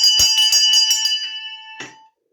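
A handbell rung during a lockdown wassailing performance, about seven bright clanging strikes in quick rhythm, then a pause and one last ring that decays into silence. The bell is close and loud, with no voice over it.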